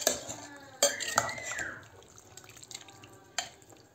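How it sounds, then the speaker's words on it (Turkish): A spoon stirs garlic meatball sauce in a pan, giving wet sloshing and clinking scrapes with a few sharp knocks against the pan, heard close up with no talking. "Şöyle karıştıralım."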